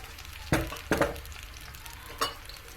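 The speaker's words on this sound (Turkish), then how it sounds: "Şu şekilde kavuruyoruz." Chopped peppers for menemen sizzle quietly in a pan while a utensil stirs them, with three or four distinct scraping strokes over a soft, steady frying hiss.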